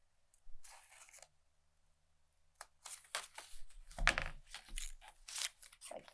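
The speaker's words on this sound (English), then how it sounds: "I could probably go ahead and cut all the way along here." Scissors making detail cuts through paper around a cut-out figure's head and neck, a few crisp snips at first, then a denser run of close crunchy cuts and rustling after a pause.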